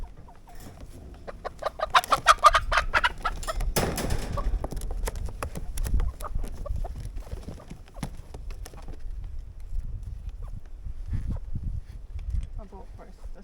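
Chickens cluck close by around a chicken coop in a backyard deep-litter run, with scattered clucks and scuffling and someone talking in between.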